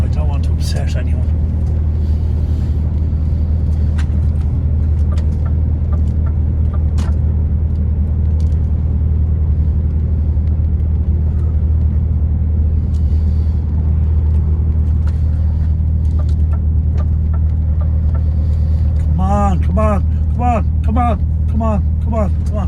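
Vehicles drive past on a road toward Cork with a constant low rumble, heard from inside a car that keeps running close by. Faint clicks come through now and then, and a short squeal rises near the end.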